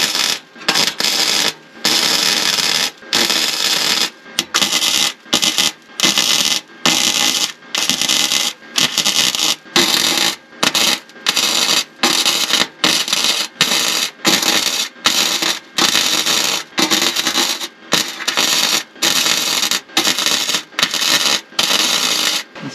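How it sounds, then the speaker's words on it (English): Tack welding on an equal-length exhaust pipe, a loud harsh crackling buzz that comes in many short bursts separated by brief silences, repeating steadily for over twenty seconds. "I'm gonna go do some tack welds on the other side of this now"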